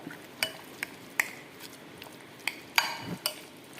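A spoon clinks and knocks against a pot while Nepali curry with onion, green chili and coriander is stirred: scattered sharp metallic taps, fairly close, with quiet gaps between them.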